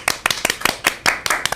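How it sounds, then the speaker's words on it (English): A few people clapping in a studio, sparse and uneven, around a dozen loud, close claps in a loose rhythm with no crowd wash. "Clap it up!"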